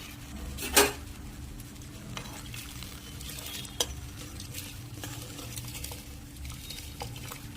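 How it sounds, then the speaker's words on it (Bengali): Steady sizzling and bubbling as fried ingredients are poured into hot water, with a sharp hiss near the start and occasional clinks of utensils. "এখন এটা জলের মধ্যে ঢেলে দেওয়া হবে"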